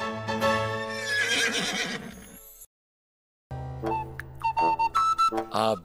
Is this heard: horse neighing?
yes